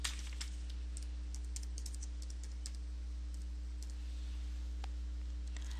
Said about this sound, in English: I'm going to type a message in here.